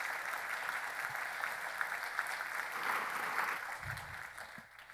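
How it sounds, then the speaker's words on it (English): A room full of listeners at a literary festival event applauds the two authors, a steady, moderately distant wash of clapping that holds evenly and begins to thin out near the end. "Let's give both of them a round of applause again."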